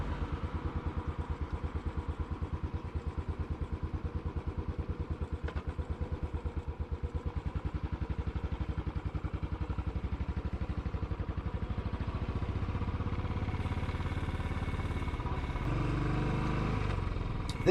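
Royal Enfield motorcycle riding along Wisbech Road in the Cambridgeshire fenland village of Thorney, its steady thumping engine running continuously and close up throughout, with a rising, louder stretch near the end.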